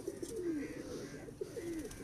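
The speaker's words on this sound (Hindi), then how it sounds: "ये इंसान टैडी कबूतर हमारे मियाँ नज़ीर साहब वाली ब्लड लाइन से।" Teddy pigeons from a home breeding loft give soft, low cooing calls, two rolling coos a moment apart, quiet and close with no talking.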